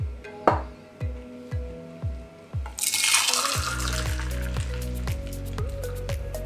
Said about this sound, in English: we're gonna pour this into a double rocks glass